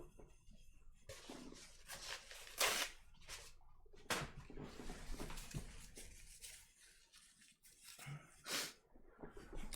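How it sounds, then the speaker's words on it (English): Several fairly faint, close nose blows, breathy honking bursts spaced out over a few seconds with sniffs between. "I need to blow my nose."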